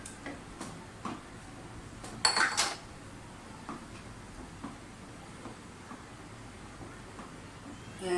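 A spoon stirs thick Kashmiri mutton harisa in a cooking pot, giving soft scraping and scattered clinks against the metal. The sounds come at an irregular rhythm, with a brief louder clatter partway through.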